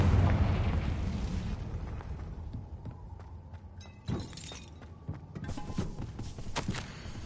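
A Confringo spell goes off in a video game with a heavy, rumbling blast at the start that fades slowly, followed by a sharp crack and a few smaller bursts and clatters.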